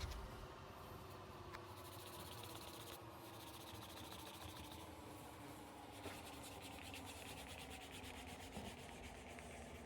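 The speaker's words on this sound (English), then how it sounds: "when I burnish, I'm going to use a little bit of a canvas cloth" Steady, continuous rubbing of canvas cloth against a leather cardholder edge during burnishing, a dry brisk friction sound that keeps going at an even level without pause.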